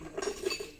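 A glass dish gets handled with a few light clinks and taps, faint and close, spaced unevenly over a brief moment.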